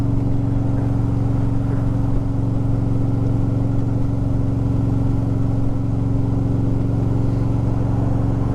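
A motorcycle does a rolling burnout on a damp road, spinning its rear tire through first to third gear; a loud, steady engine drone runs unbroken and close throughout.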